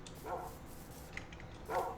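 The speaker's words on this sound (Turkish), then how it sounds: "Ah köpek. Onu devcilleştirdim." A tamed dog in the Minecraft video game gives two short, soft barks spaced over about a second and a half, faint against a steady background hiss.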